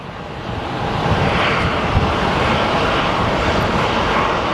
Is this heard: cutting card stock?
no